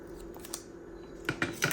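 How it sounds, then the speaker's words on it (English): A tempered privacy glass screen protector for a Samsung Galaxy S22 Ultra has its backing paper peeled off, giving a few quick crisp tearing crackles near the end after a quiet lead-in, close and alone. "You just peel off the backing paper like so."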